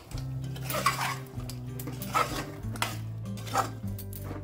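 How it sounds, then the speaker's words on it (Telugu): A spoon clinks and scrapes in a pot as yogurt, rose petals and green chillies are stirred into mutton for haleem, with a low hum beneath and several distinct metallic knocks. "అలాగే కొన్ని రోజ్ పెటల్స్, అలాగే కొన్ని పచ్చిమిర్చి ముక్కలు ఒకసారి మిక్స్ చేసుకుందాము."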